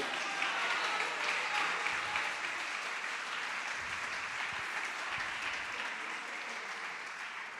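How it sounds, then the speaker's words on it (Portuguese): Church congregation clapping together during a sermon, a dense, sustained wash of applause that carries on steadily and fades slightly toward the end, with a few low thumps beneath. "Pode aplaudir e glorificar."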